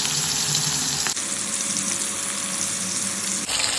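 Fish pieces coated in salt and turmeric fry in hot oil, producing a loud, dense, continuous sizzle and crackle close by, with brief shifts as the pan is moved.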